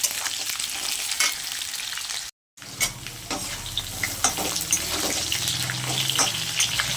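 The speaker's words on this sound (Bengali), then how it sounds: "আলুটাকে খুব ভালো করে আমি ভেজে নেব।" Potatoes fry in hot oil in a pan, a continuous close sizzle with repeated scraping stirs and clinks, briefly cut off by a moment of silence before the frying and stirring resume, with no voices.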